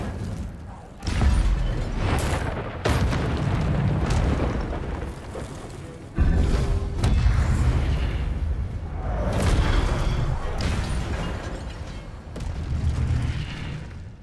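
Spell blasts and booming magical impacts from the video game Hogwarts Legacy, loud and repeated, with several heavy bursts and rumbling tails.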